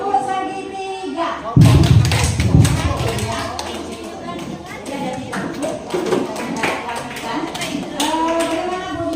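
A group of adults claps out the rhythmic triangle clapping pattern, a burst of dense thumping claps and taps at first, then scattered claps continuing under ongoing talk.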